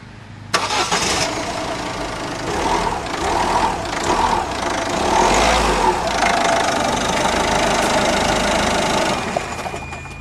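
A Peugeot 1.6 HDi diesel engine cranks, fires and settles into a steady, loud idle that runs on without a break, with no voices over it.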